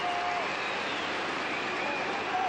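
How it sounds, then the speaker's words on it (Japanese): A dense football crowd at Wembley Stadium roars and boos in a steady, unbroken wash during an England versus Japan match, loud and sustained throughout with no clear gaps. "ウェンブリースタジアムはブーイング"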